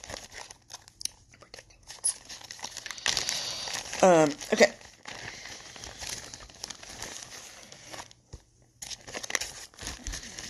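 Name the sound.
crinkling plastic bag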